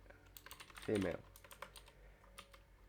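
Typing on a computer keyboard at a desk, a quiet scatter of light key clicks spread across the moment, with a brief voice in the middle.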